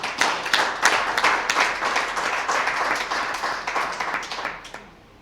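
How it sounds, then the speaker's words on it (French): An audience claps at a Rotary Club ceremony in Parakou welcoming new members. Crisp, close clapping swells at the start, holds for several seconds, then thins out and fades to quiet. "Applaudissez ça, s'il te plaît."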